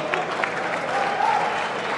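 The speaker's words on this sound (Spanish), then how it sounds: "Tibios aplausos." Lukewarm applause from a boxing crowd at the end of a round in an IBF fight, a short spell of scattered clapping over arena murmur.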